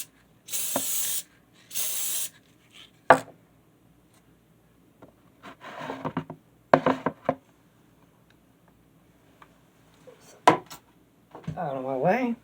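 Two short, sharp hisses of an aerosol spray glue can near the start, followed by scattered knocks, clatter and rustling handling sounds while model-making.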